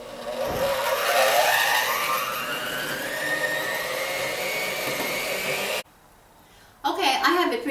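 An electric mixer whirs loudly while creaming soft butter with two kinds of sugar, its pitch slowly rising as it runs steadily, then cutting off abruptly before a short burst of mixing resumes.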